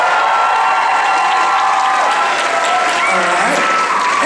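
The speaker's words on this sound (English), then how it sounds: "by round of applause, I want you to cheer the loudest for the person that you think won this stand-up comedy brawl" A comedy-club audience at a stand-up comedy brawl claps and cheers loudly, a dense continuous wash of applause with shouts and whoops running through the whole stretch.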